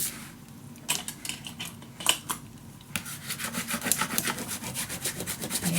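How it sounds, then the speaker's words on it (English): Paper is burnished down along its edges and corners by hand, a close series of dry rubbing strokes, scattered at first and then a fast, steady back-and-forth scraping rhythm. "Burnish it down on the edges, especially in the corners."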